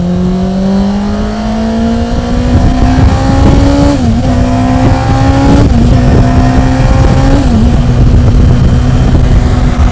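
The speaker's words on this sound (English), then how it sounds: "what is that exhaust note? It does not sound like a car, as you would imagine." Yamaha R1 motorcycle engine in an RX5-MC car revs hard and loud, a high, screaming exhaust note climbing steadily with brief dips at gear changes, close and continuous with no talk.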